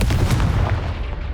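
Confringo fire-blast spell cast in Hogwarts Legacy: a run of loud, close, punchy explosive bursts with thick low rumble that fades slightly toward the end.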